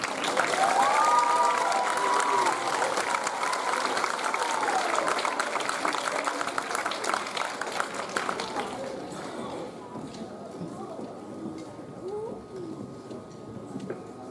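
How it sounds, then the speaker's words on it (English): A school spring band concert audience applauds first-year rookies, loud dense clapping for about nine seconds that thins and fades, with birds cooing faintly afterward. "Big round of applause for our rookies this year."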